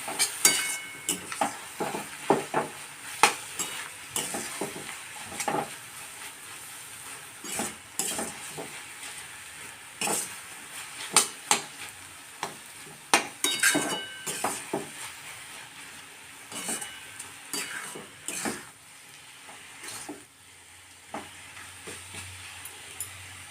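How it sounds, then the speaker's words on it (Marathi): Spoon scraping and stirring dry fenugreek leaf sabzi in a pan, with repeated clinks and scrapes at an uneven rhythm over a faint sizzle, close up and without talk. "किती छान ड्राय झालेली भाजी छानपैकी मिक्स करणार"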